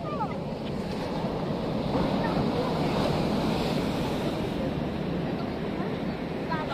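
Rough sea waves roll and crash continuously onto Cox's Bazar beach, a steady loud roar of surf mixed with gusty wind buffeting the microphone.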